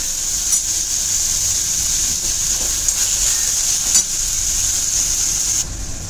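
Onion sautéing in a pan gives a steady, bright hiss of frying oil with a few faint scrapes of a stirring spoon, close and unbroken, then dropping away near the end, with no voices.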